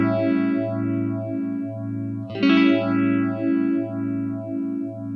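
A held guitar chord runs through a phaser pedal, its tone swept in steady, wide whooshing cycles, with a fresh strum midway renewing the sound; loud and close with no voices.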